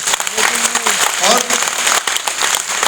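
An audience applauds at a cricket-related talk event, giving dense, loud, continuous clapping throughout with some voices mixed in.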